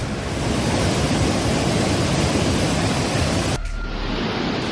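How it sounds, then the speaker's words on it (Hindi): A continuous, loud roar of rushing floodwater from a mountain cloudburst in Uttarakhand, broad and unbroken like a torrent pouring down, with a brief shift in tone near the end. "पहाड़ से जब सैलाब आता है तो तबाही की आवाज ऐसी ही होती है"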